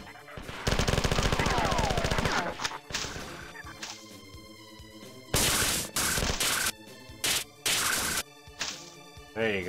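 Gunfire rips through the Marathon game as grenade launcher enemies are shot down, with loud bursts of rapid shots broken by short pauses and a few separate sharp reports, and brief talk in the background.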